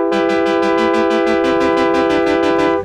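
A Moog Apollo synthesizer plays a bright, loud sustained chord preset retriggered in rapid even pulses, a buzzy repeating organ-like tone that holds steady for nearly three seconds before cutting off.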